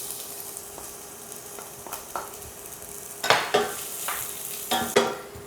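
Ginger and garlic sizzle in hot oil in a pan for Chinese braised chicken with black fungus, a steady fry hiss broken by several sharp scrapes and clinks of a utensil stirring, growing louder toward the end, close up with no talking.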